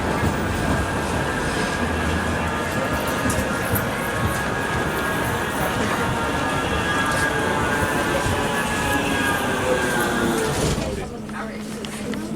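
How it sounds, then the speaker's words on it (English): Riding a Manchester tram at night toward Piccadilly: rolling wheel rumble with rising squeal tones as it travels, steady and close, before braking to a quieter stop near the end. "Last tram ride of tonight"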